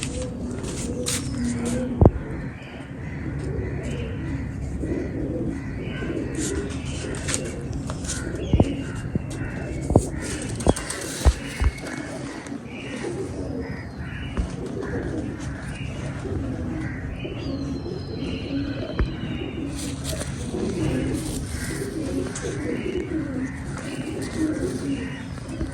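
Fancy pigeons in a loft coo in repeated low, throaty calls, with scattered crow caws and a few sharp knocks in the background over a steady ambient hum.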